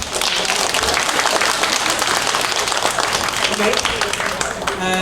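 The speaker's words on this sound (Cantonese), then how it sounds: "俾啲掌聲嘅" A sustained round of audience applause at a fiftieth-anniversary sharing gathering, dense clapping from a crowd filling the room steadily for the whole stretch, with voices mixed in.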